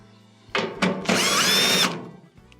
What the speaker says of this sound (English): Remove these 2 1/4-inch screws